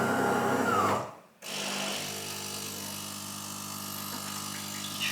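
A coffee machine rinsing itself gives a steady mechanical whir and hum that drops out briefly, then resumes as a constant drone with a faint whine, close by and alone.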